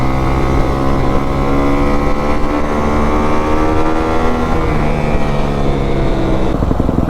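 Kawasaki KX250F dirt bike engine revving hard at top-end power, a loud, sustained high-pitched whine with the pitch climbing and shifting, close and continuous.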